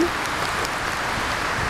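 Steady rain pouring over a wet country park, a continuous broadband hiss with close spatters and drops hitting a hand and camera, constant and fairly loud throughout.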